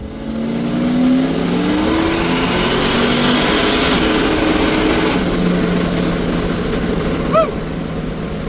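Turbocharged car running 11 pounds of boost accelerating hard, its engine note climbing in rising harmonic sweeps as it revs through the gears, loud and close throughout with a steady roar and no talk.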